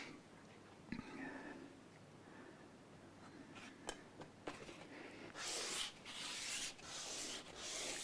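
Sandpaper rubs steadily against the wood of a Gibson ES-335 guitar during a setup, soft scratchy strokes building into louder, longer bursts of sanding toward the end, close and without talk.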